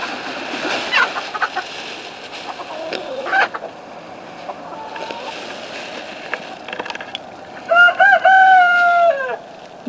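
Rooster crows and chickens cluck in a farmyard where hay bales are being spread, with a loud, close crow near the end and scattered softer calls before it.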